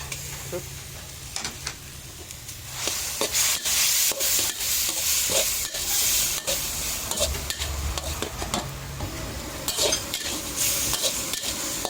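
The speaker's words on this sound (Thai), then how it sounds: "เราใส่ใบกะเพราก่อนนะจะได้หอมๆ แล้วเราใส่ข้าวไปผัด" Rice being stir-fried with holy basil and stir-fry sauce for crispy pork basil rice, a vigorous sizzle broken by repeated clanking spatula scrapes and tosses against the wok.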